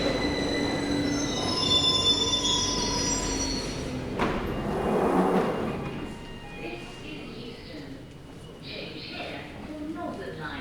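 A London Underground Victoria line train's wheels squeal with shrill, sustained high tones while the car rumbles loudly along the track, easing toward the end; faint voices underneath.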